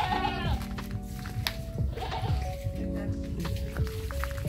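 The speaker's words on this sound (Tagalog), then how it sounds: "tingnan natin guys yung kambing" Goats bleat several times beside a house among garden clutter, their wavering calls repeating close by over faint wet squishing and dripping.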